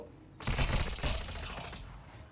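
Gunfire in the video game Call of Duty Warzone, a dense rapid fusillade of loud shots that bursts in after a short pause and keeps rattling with an echoing tail.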